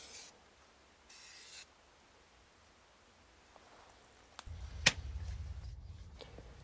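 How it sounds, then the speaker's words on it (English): Brake and clutch cleaner sprayed onto Audi A3 brake parts during a wheel bearing, disc and pad job: two faint, short aerosol hisses, followed by quiet rustling and handling noises. "Now also a little bit of brake and clutch cleaner to get rid of any contaminants."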